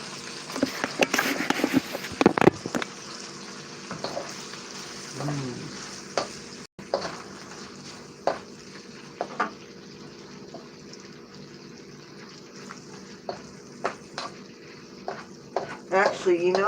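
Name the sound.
shrimp frying in hot oil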